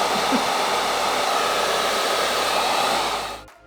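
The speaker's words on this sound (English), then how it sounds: "we're going to brush back and up while blow drying" A hair dryer blows steadily and loudly while a man's hair is brushed back and up, the airflow running continuously before cutting off at the end.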